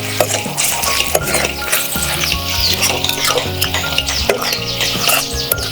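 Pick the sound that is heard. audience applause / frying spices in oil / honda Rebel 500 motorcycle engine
frying spices in oil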